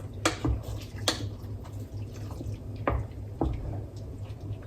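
Water is added to a pot of salmon, sweet potato and broccoli chowder with vegetable stock. Scattered soft drips and small splashes land close by in a quiet kitchen, with no talking.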